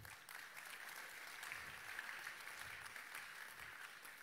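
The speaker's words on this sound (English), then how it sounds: "Come on, clap." Crowd of worshippers at a church crossover night service clapping together, a steady dense wash of applause that continues evenly throughout, fairly distant and soft with no talking.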